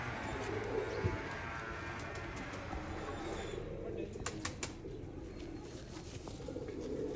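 Sialkoti Chuhe pigeons coo softly in a loft, low murmuring calls under a noisy background with occasional taps and rustles, while a voice is faintly present.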